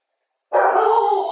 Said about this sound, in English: And my dog is barking, so sorry.